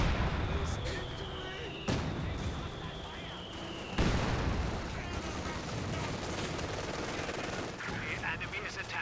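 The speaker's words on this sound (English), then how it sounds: "Mortar needs to start barraging the Pack 40 as well." A mortar barrage and gunfire in the video game Company of Heroes 2 form a dense, continuous battle din with sharp bursts and heavy thuds, including a big impact partway through, with game voice lines over it.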